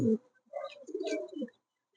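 Giribaz pigeons cooing softly up close, a short throaty burst followed by a longer rolling coo, then quiet.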